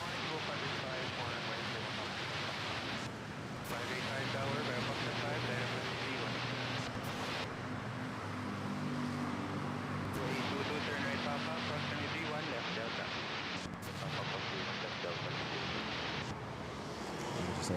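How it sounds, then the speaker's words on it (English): An Air Asia airplane takes off from runway 31 at Manila Airport, bound for Kalibo: a steady, broad jet roar with a low droning hum that holds at an even level throughout, heard from a distance with some wind buffeting. "Just had a takeoff at runway 31 to Kalibo. There we go, Air Asia."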